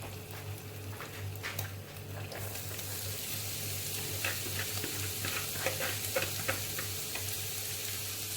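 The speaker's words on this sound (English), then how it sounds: "going to chuck the onions in anyway" Onions tipped into a pan with stuck-on residue for Greek chicken stew, a moderate frying hiss with occasional crackles and spoon scrapes, steady and fairly close under a low background hum.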